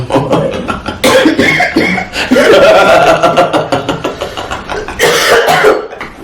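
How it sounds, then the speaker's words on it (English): Several harsh coughs mixed with chuckling, close to the microphone, with bursts of throat noise and brief laughter throughout. "You the one keep making me cough."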